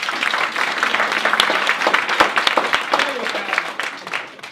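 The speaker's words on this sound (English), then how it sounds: "and we get a round of applause." An audience at an anniversary event applauds a panel being introduced, a loud dense wash of clapping with some sharper individual claps, while a voice talks over it throughout.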